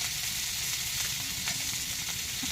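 Amaranth greens frying in a hot pan give a loud, continuous, dense sizzle that stays even and close throughout, with faint crackles and no voices.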